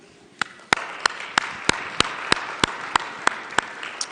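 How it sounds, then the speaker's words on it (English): Slow, evenly spaced claps ring out about a dozen times over low room noise at a produce safety and preventive controls breakout meeting, each hit sharp and distinct. "So I would just give a round of applause to everyone here for doing what we just did"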